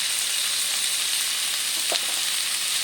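Taro stems, Malabar spinach and potato being stirred with salt and turmeric in a pan, giving a steady soft sizzle under a broad hiss, with a brief scrape of the spoon near the end.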